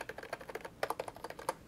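Quiet, uneven tapping on an inexpensive budget computer keyboard with a wobbly spacebar, individual key clacks heard up close with a few louder strikes mixed in.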